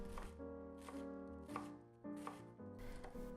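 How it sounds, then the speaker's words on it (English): A knife chops raw onion on a cutting board in crisp, evenly spaced strokes, about six close thuds over a quiet background. "Hold the onion firmly with your finger, make horizontal cuts, and cut crosswise"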